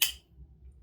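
A folding knife's mechanism gives a single sharp, close click at the very start, followed by near silence with faint low background hum.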